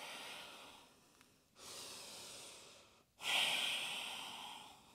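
Slow, deep yogic breaths during an intermediate Ashtanga practice, with a soft inhale followed by two long, airy exhales, the last one louder and close to the microphone, and no talking.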